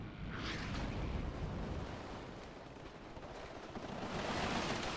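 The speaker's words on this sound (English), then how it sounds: "a Vulcan cannon shooting at infantry in the town." Rapid automatic cannon fire from a Vulcan gun strafing infantry in a town during a WARNO real-time strategy battle, a dense continuous roar of shots and explosions lasting throughout without talk.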